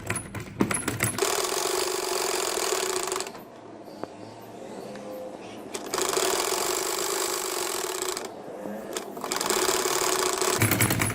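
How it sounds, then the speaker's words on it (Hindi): A sewing machine stitches the front hem of a sleeve for a six-month baby boy's shirt, running in three loud bursts of rapid mechanical stitching with short quiet pauses between them and no talk. "अब मैं सबसे पहले बाजू की फ्रंट की तरपाई करूँगी यहाँ से।"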